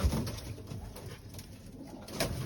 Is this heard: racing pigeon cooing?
yes